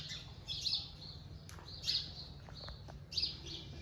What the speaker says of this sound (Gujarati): અહીંયા પક્ષીઓ કિલ્લોર કરે છે હવાર હવારમાં ચીકુડી ઉપર